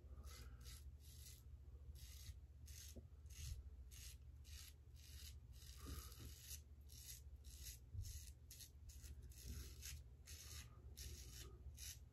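Close, steady rasping strokes of a sharp Harry's Chrome Edition five-blade razor cutting through stubble on a first pass, repeated scraping rhythm with no talking.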